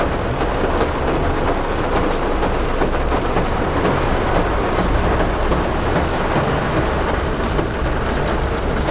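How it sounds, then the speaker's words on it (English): Steady, dense rain pours down at close range for the whole stretch, with low rolls of thunder rumbling beneath the hiss and no voices, during a storm in Darjeeling, India. "This rain is exactly what we needed."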